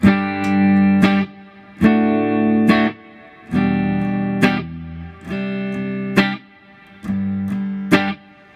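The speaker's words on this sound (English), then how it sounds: "now, I can add precision reverb" Electric guitar chords through a handmade amp and reverb pedal, strummed in a repeating pattern, each ringing out with a wash of reverb tail, loud and upfront with no talking.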